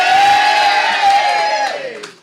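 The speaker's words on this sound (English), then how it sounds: "If you do, give us a cheer." A live comedy audience cheers and whoops loudly in a sustained shout that holds steady and then fades away, close and full, with no separate talking.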